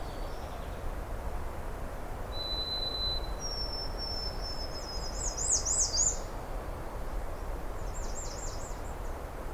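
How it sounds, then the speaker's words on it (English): Faint, distant blue jay calls, a few thin whistled notes rising and wavering, set against a quiet outdoor background hiss. "blue jays."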